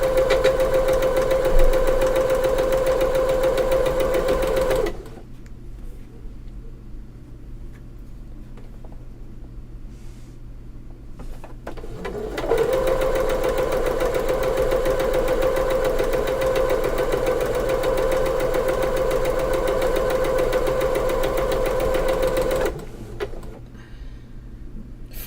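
A sewing machine stitches cotton quilt pieces in two long runs with a steady, humming mechanical whir, separated by a quiet pause, then stops briefly before a short final burst.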